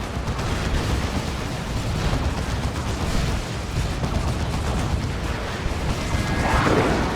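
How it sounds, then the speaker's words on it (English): Lascannon fire and dense battlefield blasts from the Warhammer 40,000: Dawn of War 2 strategy game, a continuous loud rumbling barrage of shots and explosions with no talk. "Las Cannon is getting shots on that Vortimer."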